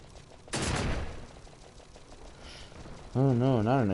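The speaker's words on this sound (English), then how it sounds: "Oh no, not an explosion trap." An explosion trap goes off in Final Fantasy XII, a sudden loud crackling blast that decays over about a second, followed later by a wavering warbly game effect, with a voice talking over the background.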